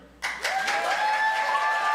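Audience clapping to vote at a live musical show, applause starting abruptly and holding steady as a dense, full-room wash of claps, with a sustained tonal note ringing underneath.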